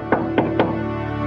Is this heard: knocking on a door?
yes